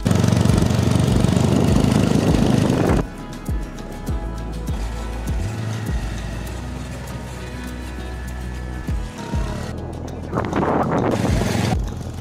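Motorbike engine while riding on a road trip toward a waterfall, a loud buzzing drone with wind rush for the first seconds, then a quieter rumbling engine before the roar swells again near the end.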